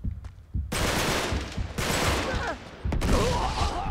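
Gunfire in Uncharted 3 comes as dense, loud bursts of automatic fire, one after another with brief gaps, close and harsh, and a sharp single crack near the end.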